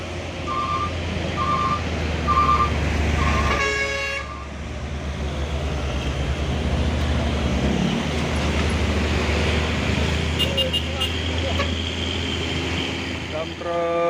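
Heavy truck traffic rumbles close by, including a dump truck, with repeated beeping tones and a horn sounding through the steady engine noise.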